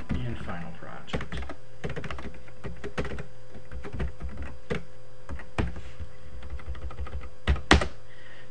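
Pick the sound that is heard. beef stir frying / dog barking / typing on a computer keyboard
typing on a computer keyboard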